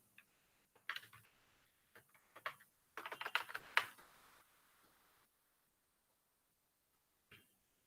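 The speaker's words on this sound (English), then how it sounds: "So let me type my first app" Bursts of typing on a computer keyboard while entering an Android app name, with clusters of quick, light key clicks separated by pauses and a lone tap near the end, close and quiet.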